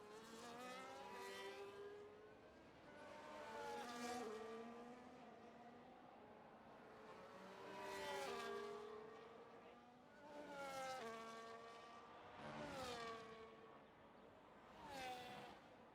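Formula 1 cars lapping the Belgian circuit, including a Williams on an early lap: high-pitched engines rise and fall in pitch as several cars pass one after another, each swelling and fading at moderate distance, with no talk.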